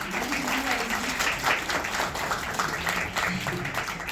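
Cinema audience applauding at an evening event in Paris, a steady wash of clapping held at moderate level throughout, heard from within the crowd.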